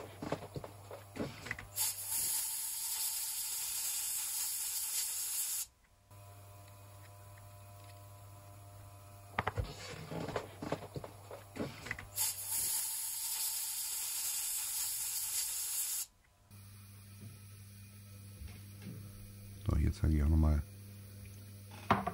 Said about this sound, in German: Das Ganze dann auch genauso nochmal mit den Verschlusslamellen. Das Ganze reinigen, lösen, ausblasen.